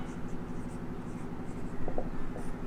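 Steady scratching of a marker or chalk writing a chemical structure on a board, continuous and moderately close over a background hum, with a couple of brief taps.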